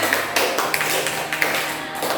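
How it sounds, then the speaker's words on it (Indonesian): A small group of classmates claps together at the end of a group presentation in a classroom, giving a steady, moderately loud patter of hands over a low background hum, with no talking. "Mari kita tepuk tangan untuk kita semua."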